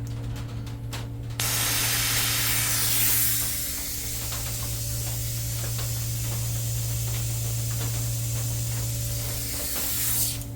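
Compressed air hisses loudly as it is forced through blocked brake lines on a Gilera Runner VXR200 scooter clogged with old fluid, a sustained spray lasting several seconds with a low hum and a few small knocks.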